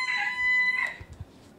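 A rooster that has been shut in crows once, loud and close, in a long drawn-out call. A few dull thumps follow as it fades.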